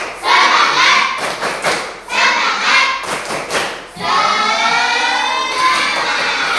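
A class of schoolchildren performs a rhythmic clapping chant, loud, close, bursts of claps and voices in several sections with short pauses between.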